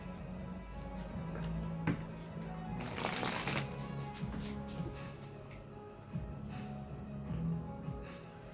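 Tarot cards are shuffled by hand close up, with soft repeated riffling and slapping over a low steady hum.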